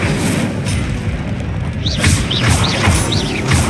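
Incendio fire spell in the Hogwarts Legacy game: a loud, continuous booming rush of magical flame with heavy low rumble, overlaid near the end by a few rising whistling chirps.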